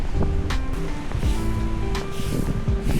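Ocean waves surge onto Ilig-iligan beach in Boracay, an east-facing shore with high surf, in a rough, continuous wash with gusts of wind buffeting close to the microphone.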